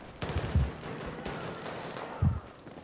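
An MPX submachine gun fires in short, close bursts in the shooter Battlefield 4 on the Pearl Market map, with two heavier thumps standing out amid the rattling shots.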